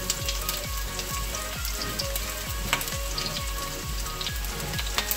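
Chopped shallots frying in hot oil for a Kerala pork curry, a loud, dense crackling sizzle with rapid popping throughout, close up and without voices.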